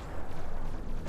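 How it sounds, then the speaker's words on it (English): Gunfire in the VR game Tower Tag comes as a dense, loud, continuous roar of shots close by, with no separate bursts and no talking. "Got a lot of fire coming on you there,"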